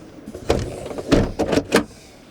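The door and roof hatch of a Fiat Ducato camper van are pulled shut, giving a few close, dull thumps and knocks that come in quick succession inside the cabin.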